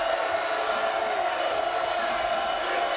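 A sellout basketball crowd of over 14,000 roars steadily inside an arena during a 1994 Michigan State at Nebraska game, a dense wall of cheering and shouting that holds at the same loud level throughout.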